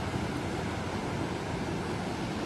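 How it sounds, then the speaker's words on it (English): A continuous broadband roar of ocean surf at night on an Encinitas, California beach, steady and fairly loud, mixed with wind buffeting the microphone, with no talking. "it goes down to the beach. And you can see the waves."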